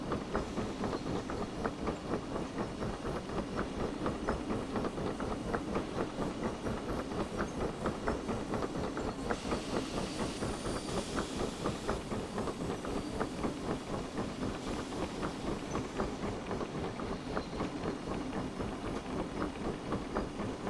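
A steam locomotive in the Derail Valley train simulator runs along the track with a steady rhythmic clatter and chuff. Occasional bursts of hissing steam rise above the constant rolling noise.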